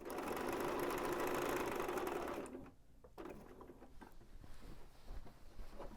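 A sewing machine stitches bias binding onto a scalloped edge in a steady, close motor whir that stops abruptly partway through, followed by faint handling noise.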